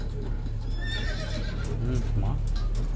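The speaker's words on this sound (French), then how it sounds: "Les chevaux sont durs à l'ouvrage. Et à l'écurie, on en prend bien soin." Horses in a logging camp stable give loud whinnying neighs close by, several rising and falling calls over a couple of seconds, with hoof clops mixed in beneath a voice talking.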